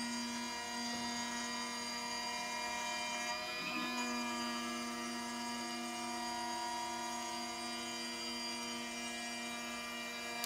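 A CNC milling machine cuts wood and delrin, giving off a steady, faint tonal whine with a constant mechanical hum and a brief shift in pitch partway through.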